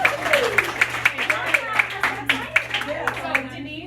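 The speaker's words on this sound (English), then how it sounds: "let's give them all another round of applause" A small audience gives a round of applause, a sparse clatter of individual hand claps with distinct, irregular beats that fades toward the end over a steady low hum.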